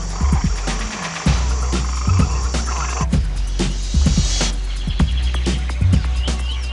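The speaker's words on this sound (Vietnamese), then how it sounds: "Ở dưới mặt đất trong rừng, loài ếch cất tiếng gọi bạn tình vào ban đêm." Frogs calling for mates at night on the forest floor, a dense chorus of repeated deep croaks in a steady pulsing rhythm, loud and close, with no voices.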